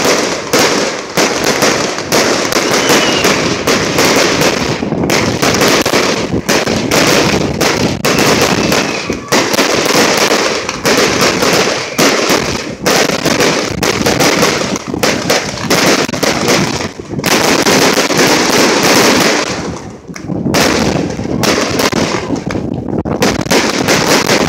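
Fireworks and firecrackers going off at a dock, a dense loud barrage of sharp cracks and bangs in rapid, irregular succession, nearly continuous with only a brief lull before the popping resumes.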